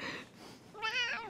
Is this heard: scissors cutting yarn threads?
no